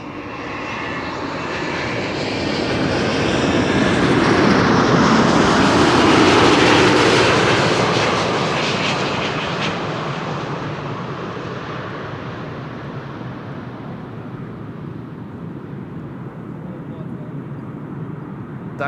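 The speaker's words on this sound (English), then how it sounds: "we'll first see Shamrock Flight 604, which is returning from Dublin, Ireland, an A321neo" An Airbus A321neo arriving at Amsterdam Schiphol from Dublin roars in loudly, swelling to a peak and then fading into a long, hissing rumble as it passes, with a voice talking faintly underneath.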